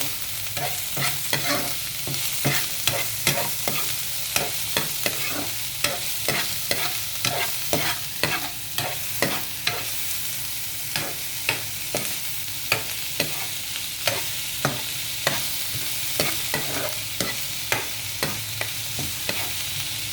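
A spatula scrapes and stirs low-carb ingredients frying in a pan, with regular clacking strokes about every second over a steady soft sizzle, close and without talk.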